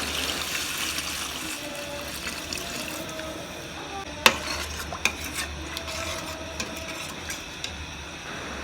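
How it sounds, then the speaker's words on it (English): Water goes into a pot of simmering beef for egusi soup, a soft continuous trickle and stirring with scattered metallic clinks of a utensil against the pot, fairly quiet and close. "I will now just add water"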